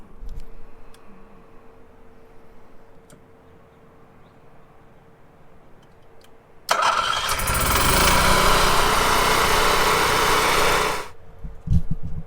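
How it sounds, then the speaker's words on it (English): An Onan 4000 generator in an RV cranks and runs, a loud broadband roar starting suddenly and holding steady for about four seconds before cutting off, with quiet room noise before and after. "So we're gonna start it here and let it warm up for a bit."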